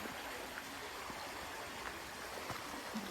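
Clear water flows steadily past a stopped wooden water wheel in Konigil village on the Silk Road in Uzbekistan, a continuous soft rushing babble with faint splashes and no voices.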